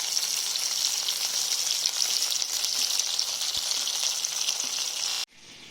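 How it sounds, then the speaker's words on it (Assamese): Fish frying in a pan makes a steady, close sizzle that runs almost without a break before it stops abruptly near the end, with no one talking. "এইফালে মাছ ভাজি থাকোঁতে"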